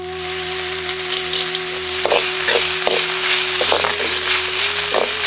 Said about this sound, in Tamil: கூடவே கொஞ்சம் உப்பு சேர்த்து வெங்காயத்தை நல்லா வதக்கிடுவோம்.